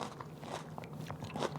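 Biting into crunchy stir-fried Chinese greens seasoned with soy sauce and sesame oil gives a quick run of close, crisp crunches and crackles over about a second and a half.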